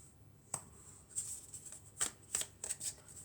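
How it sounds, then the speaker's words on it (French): Tarot cards are shuffled in a quiet room, a series of soft, crisp riffling bursts and flicks arriving irregularly, close and fairly faint, with no talking. "Non, on va mélanger encore."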